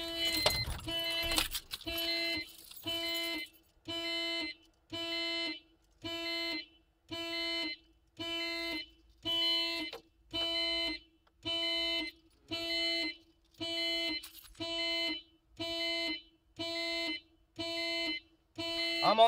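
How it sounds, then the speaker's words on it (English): A car's alarm blares in regular pulsing bursts, a loud repeating electronic tone switching on and off at an even rhythm, with some rustling and handling noise at the start and no voices. "I'm trying to deactivate the goddamn alarm in this car with this"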